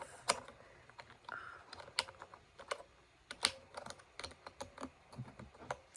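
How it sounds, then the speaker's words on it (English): Quick irregular clacks of typing on a white RGB Alienware keyboard, crisp close-up key presses in uneven bursts with occasional louder strikes, quiet and intimate with no speech. "It's an Alienware keyboard. It's a white RGB one."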